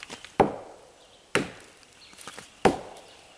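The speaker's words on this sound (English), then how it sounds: "Kind of a hollow or a dull thud." Three separate dull, hollow knocks on soft, rotten tree wood cut with a chainsaw, each a short thud with a quick decay, spaced about a second apart and fairly faint, with no talking.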